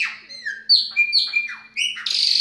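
A chopi blackbird (pássaro preto baianinho) sings close and loud, delivering a run of clear whistled phrases with squawky, sliding notes and short pauses between them.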